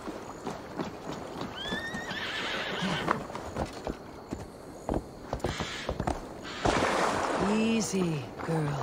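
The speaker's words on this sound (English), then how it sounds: "Your horse is a little unsettled" A horse in the Assassin's Creed Valhalla video game whinnies and snorts while its hooves clop in uneven steps, loud and close, with a voice speaking over parts of it.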